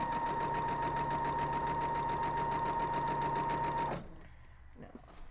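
A sewing machine stitching quilt block pieces for a maple leaf block, running at a fast, even rhythm for about four seconds before it stops. Faint handling noises follow.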